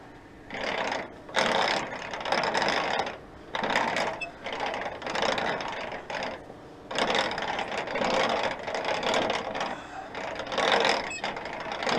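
Ratchet winders on a bulker trailer being wound by hand, a rapid metallic clicking in repeated bursts of about a second or two with short gaps, close and fairly loud, worn mechanisms rattling as each strap is tightened.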